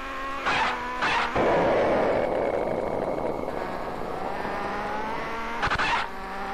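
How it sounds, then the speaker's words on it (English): Ford Escort driving down a road in the Amiga game City Cars, a steady synthetic engine drone broken by short, sharp bursts of effects near the start and end. "This is City Cars, and in this game we drive down a road, but not like Lotus 2, it's in a Ford Escort"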